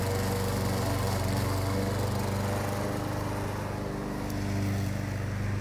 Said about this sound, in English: Somebody's mowing their lawn.